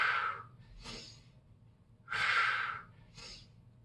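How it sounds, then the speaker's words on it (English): Heavy, forceful breathing during an upper-body strength workout: two rounds of a long, loud exhale followed by a shorter, sharp inhale, close up and alone. "Keep breathing into it."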